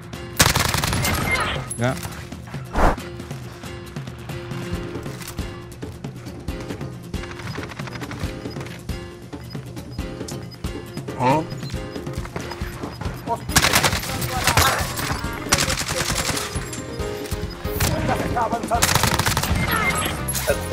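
Video game gunfire, with dense bursts of rapid automatic shots and scattered single cracks, loud and near, running throughout alongside brief talk.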